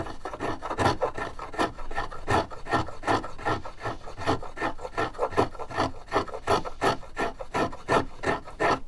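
Small Ammoon violin hand plane shaving wood in a steady series of rasping strokes, about two per second, close and clear with no talking.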